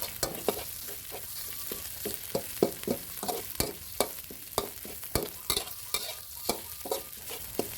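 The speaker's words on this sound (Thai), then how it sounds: "ผัดให้ทรงกลิ่นหอมเลยนะครับ" Red curry paste sizzles in a hot wok while a spatula scrapes and stirs it in a quick, repeated rhythm. The clicks and scrapes sound close over a quiet frying hiss, with no voices.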